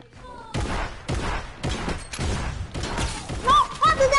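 Video game gunfire cracks out in a rapid series of loud, sharp bursts, roughly one per half second, with excited talk and shouts over and between them.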